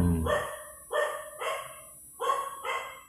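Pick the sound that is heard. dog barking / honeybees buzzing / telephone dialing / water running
dog barking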